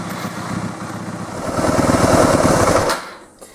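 Yamaha WR250F dirt bike engine running after start-up, a loud, steady near four-stroke chug that rises in intensity midway before cutting off abruptly near the end.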